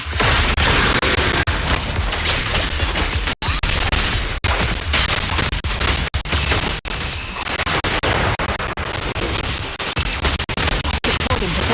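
Rapid bursts of gunfire and booming impacts from the video game Zenless Zone Zero, loud and dense with brief gaps between volleys, layered over busy combat effects.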